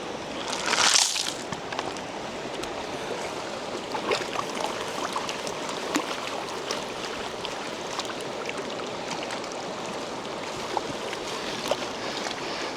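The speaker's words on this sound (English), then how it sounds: "So when I pan, I like to do the swirl, get the mud out, just kind of work it around" Water swirling and sloshing in a gold pan in a Fairplay, Colorado stream, a soft continuous wash with faint splashes and one brief louder slosh near the start.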